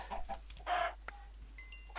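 Chicken in a hardcore survival video game, a few short clucks and brief calls spread over two seconds, faint and close with no talking.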